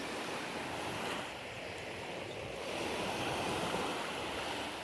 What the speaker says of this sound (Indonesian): Ini laut tuh